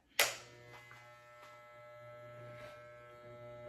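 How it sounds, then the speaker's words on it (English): Electric hair clippers with no guard switch on with a sharp click during a barber state board exam haircut, then hold a steady, fairly quiet mechanical buzz with hum. "we're going to use clippers with no guard"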